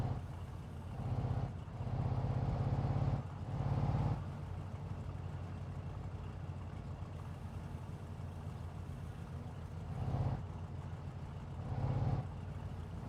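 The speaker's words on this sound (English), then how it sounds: "the other reason I don't like this car, it's loud" In the video game My Summer Car, a loud car engine drones steadily at close range, swelling in a few rough revving surges over a constant low idle rumble, with no voices.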